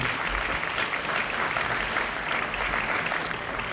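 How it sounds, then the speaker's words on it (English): Steady applause from an audience fills the whole stretch, dense and even with no pauses and no speech over it. "if we can get a round of applause for Professor Al-Habib."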